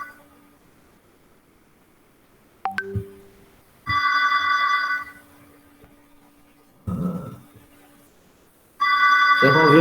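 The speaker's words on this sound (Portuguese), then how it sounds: "Vocês vão ouvir o telefone tocando aí" A telephone rings in a classroom during a lecture, sounding in two long, loud electronic bursts separated by quiet gaps, with a sharp click before the first.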